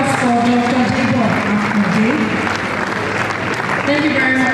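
Audience applause at a leadership conference continues throughout, with a speaker's voice talking over the clapping.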